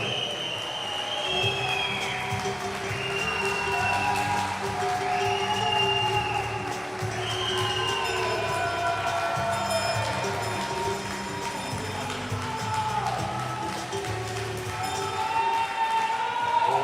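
Spectators at a Galician winter masters swimming championship applaud and cheer the Escualos +200 team after its record 4x50 medley relay. The sustained crowd clapping echoes through the pool hall, with whistles and brief talk mixed in.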